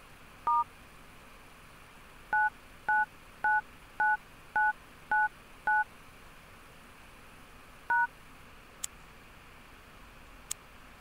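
Touch-tone keypad beeps from an Android Gingerbread 2.3.4 phone dialing out: one short tone, a pause, then a quick evenly paced run of seven tones and one last tone, followed by two faint clicks, over quiet room noise.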